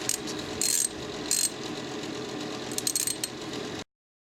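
A ratchet with a 13/16 socket works loose the spark plugs on a Suzuki Samurai engine during a top end teardown, giving close, steady mechanical clicking with a few brighter bursts of faster ratcheting.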